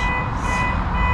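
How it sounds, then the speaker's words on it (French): A remote control beeping steadily, a close, clear electronic tone held through the short moment with no talk. "La télécommande, là, elle arrête pas de biper."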